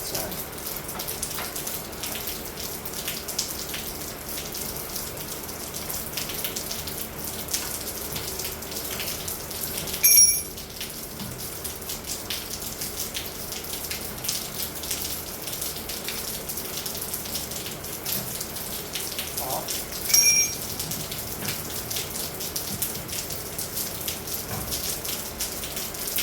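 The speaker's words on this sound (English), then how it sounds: "It's raining outside." Steady rain falling outside a garage during work on a 4-cylinder Fiero, a continuous hiss of drops with a couple of faint clanks, no voices.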